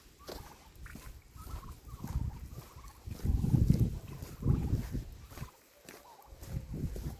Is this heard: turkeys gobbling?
yes